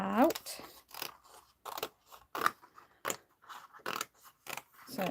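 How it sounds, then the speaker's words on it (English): Scissors roughly cut out a piece of card in a string of close crisp snips and crunches, spaced irregularly. "I'm just going to roughly cut this out."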